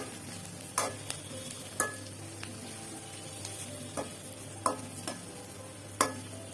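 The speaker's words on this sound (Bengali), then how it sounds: "সরিষার তেলে পেঁয়াজ আমি একটু হালকা ভেজে নিব লাল করে।" Onion frying in mustard oil in a pan, a faint background sizzle broken by several sharp scraping stirs at irregular intervals, with no talking.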